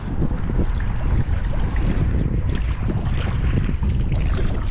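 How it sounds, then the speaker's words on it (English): Constant gusting wind roars and buffets across a kayak out on the water while bass fishing, a loud, close, rumbling rush with no pause. "kind of get to a spot where this wind won't hit me as much"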